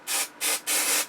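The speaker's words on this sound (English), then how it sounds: "we're going to spray that with some craft glue, spray adhesive, carpet adhesive" Spray adhesive hisses from an aerosol can onto a wooden cocktail skewer in three short close bursts, the last one longest, with no other sound around them.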